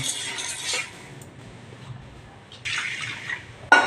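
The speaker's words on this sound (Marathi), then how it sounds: "हे मी दोन्ही मिक्स करून चांगलं स्वच्छ धुवून घेणार आहे दोन तीन पाणी घालून चांगलं स्वच्छ असं धुवून घेणार आहे" Rice and whole masoor lentils being washed in a pot of water, with bursts of pouring water and grainy swishing and rattling between quieter stretches, ending in a sharp clink of metal.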